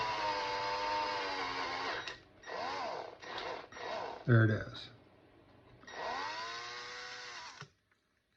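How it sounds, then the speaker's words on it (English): A power drill bites through a car's rivet head, following a pilot hole, in whining bursts that rise and fall with motor speed, broken by short pauses and a brief loud clunk, while someone says a few words. "all we want to do is drill just enough to get rid of the rivet head"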